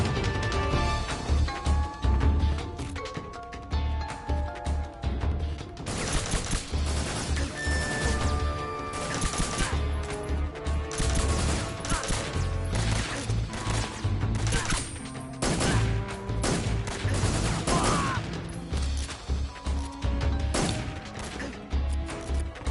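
Grenade explosions and bursts of gunfire in the video game Metal Gear Solid 3: Snake Eater, dense and loud, with repeated booms, crashes and rapid shots piling up over a long stretch of continuous battle noise.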